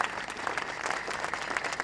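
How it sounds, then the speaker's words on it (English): Audience applauding at a tribute event for songwriter Pete Ham, a steady dense wash of clapping throughout, moderately loud and without any voices over it. "that I think is worth a round of applause."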